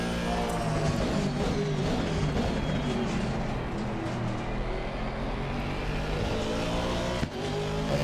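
A race car engine in Assetto Corsa Competizione at Kyalami, played on a direct-drive wheel, drones loud and steady with gear-driven pitch shifts and a brief dip near the end.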